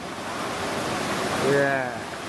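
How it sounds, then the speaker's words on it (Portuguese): Cold summer river rapids rush in a steady broadband roar on a rocky mountain trail near Lumiar, with a voice faintly talking over the water partway through. "Nessa corredeira, nós estamos no verão, a água é bastante fria"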